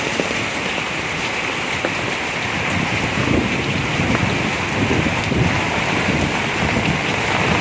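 Heavy rain from a Kalbaishakhi storm pours in a dense, unbroken roar over flooded ground, steady and loud for the full length, with some gusty wind noise.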